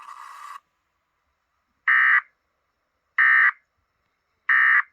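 An Emergency Alert System tone for a New Hampshire practice/demo warning, heard as a brief burst followed by three short, identical loud electronic beeps spaced evenly about every 1.3 seconds, with silence between and no voices.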